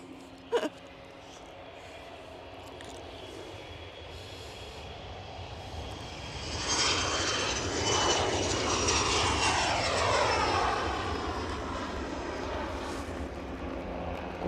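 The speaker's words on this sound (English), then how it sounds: "there's a plane rolling" A fixed-wing airplane rolling at Edinburgh Airport, its jet engine roar swelling from distant to loud midway and holding steady, with wind noise and a brief thump early on.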